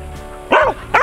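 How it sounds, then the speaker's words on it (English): Dogs barking out on a ranch with a rifle range, two loud, close bursts of barking separated by a short pause. "We got the dogs."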